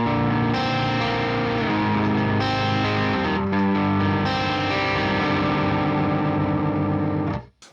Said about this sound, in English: some mid-gain sounds with the neck pickup.